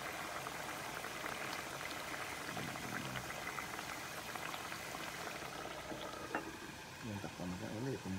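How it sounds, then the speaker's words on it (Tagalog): Water boiling hard in a pot while making lechon kawali, a continuous bubbling roil throughout, with a few brief clinks and a short burst of talk near the end. "Nag-atubulit na yung tubig."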